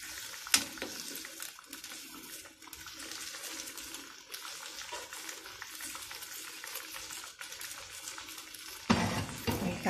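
Coconut milk heating in a pot for a Thai bamboo shoot dish gives a steady bubbling, simmering hiss with some stirring, fairly close, continuous throughout with a louder burst near the end.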